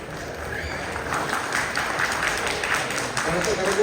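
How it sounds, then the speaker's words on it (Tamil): An audience at a Tamil debate gathering applauds with a steady wash of clapping that holds at an even level throughout, while a voice speaks over it. "கரகோஷம்"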